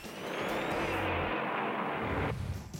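1962 stock car racing, with Fred Lorenzen's number 28 Ford battling Banjo Matthews' Pontiac for the lead: a loud engine roar sweeping past, rising and then cutting off abruptly, with no speech.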